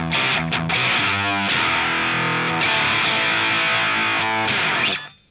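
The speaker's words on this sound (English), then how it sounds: "So then you really lose all of the body out of it and it becomes really harsh and fizzy." Electric guitar through a Boss DS-1 distortion pedal with the tone knob turned fully up, playing loud, harsh, fizzy distorted notes and chords for about five seconds before cutting off abruptly.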